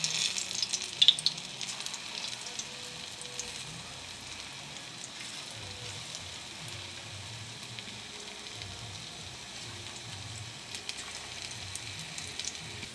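Battered okra pieces deep fry in hot oil for okra 65, giving a faint, steady bubbling sizzle with a couple of light clinks near the start.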